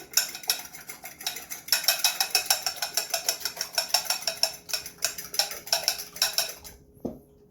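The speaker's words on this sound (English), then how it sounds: "we're going to beat our egg" An egg being beaten in a bowl for cranberry walnut bread, a rapid steady clatter of whisk or fork against the bowl, close and fairly quiet, ending with a short knock.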